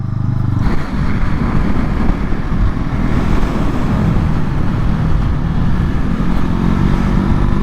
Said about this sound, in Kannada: ಚೆನ್ನಾಗಿದೆ, ಒಳ್ಳೆ ಪಂಚಿ ಇದೆ ಗುರು ಇಂಜಿನ್ನು